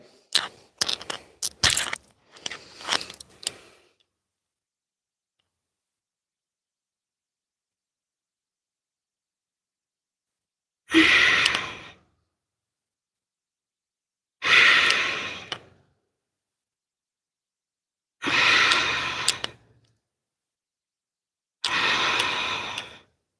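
Deep audible breaths during a hip-opening yoga class: a few quick breathy exhalations at first, then four long, evenly spaced slow breaths separated by silence, close to the microphone.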